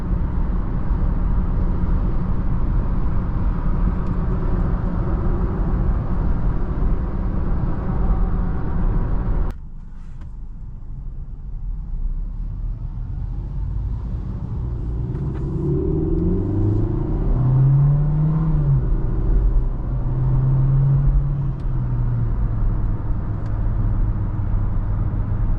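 A MK7 VW Jetta 1.4T fitted with an ECS air intake and dual inlet scoop, heard as a steady low engine rumble that drops suddenly, then builds through rising rev sweeps before settling back to a loud idle-like drone.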